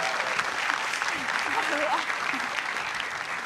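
Studio audience at a Tonight Show taping clapping continuously, fairly loud and dense, with talking voices audible underneath.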